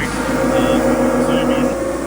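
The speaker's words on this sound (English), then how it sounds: "Tires are a bit noisy, sorry." Steady, loud road-like roar of a second-generation N80 Toyota Hilux's tires spinning on dyno rollers in fourth gear, with an engine drone underneath, continuous and unchanging throughout.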